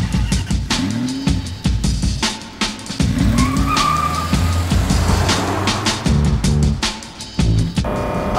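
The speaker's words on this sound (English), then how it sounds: "There's people whose jaws are dropping as I go by them because this car is loud." A loud, revving Aston Martin sports car engine roars continuously with rising and falling pitch, close and dominant, punctuated by sharp bursts and shifts, while cruising on the road to the Nürburgring.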